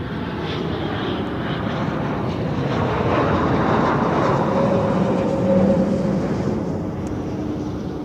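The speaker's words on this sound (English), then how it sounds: "Landing now on 14 is a Gulfstream." A Gulfstream business jet landing on runway 14 at Zurich Airport, a loud broad engine roar that swells gradually and holds steady, with some wind buffeting on the microphone.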